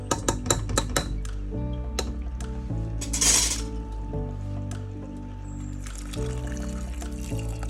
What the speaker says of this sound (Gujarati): હવે આપણે એમાં પાણી નાખશું.